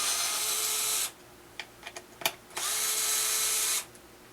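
Power driver with a T20 bit backing screws out of a Onewheel Pint battery box: two close, steady whirring bursts of a few seconds each, separated by a pause with small clicks and taps.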